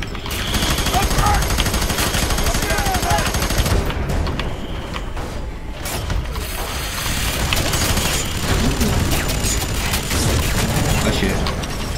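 Gunfire and a grenade blast in the video game F.E.A.R. 3 during a firefight in the slums, with dense, continuous loud shooting and booming mixed with the players' excited talk.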